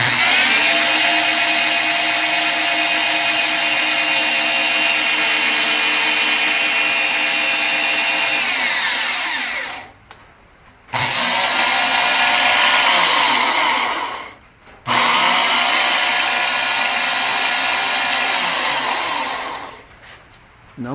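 A Total Shop bandsaw machine running on its first run, a loud close steady motor whine that cuts off briefly twice before restarting, with a final trailing off near the end.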